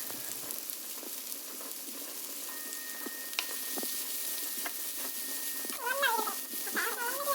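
Onion fries in oil for an egg puff filling, making a soft, continuous sizzle with light stirring, and a cat meows a few times near the end.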